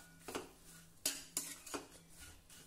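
Chopped tondli (ivy gourd) is stirred in a pan with sesame seeds and roasted crushed peanuts, a spoon scraping and knocking against the metal in a few quiet, uneven taps and scrapes, with no talk.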